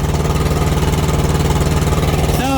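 A Thermo King TriPac Evolution APU's small 3-cylinder engine idling up close, a loud, steady, slightly uneven pulsing chug, with a brief higher whine near the end.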